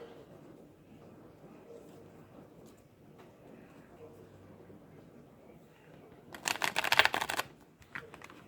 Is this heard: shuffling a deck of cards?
yes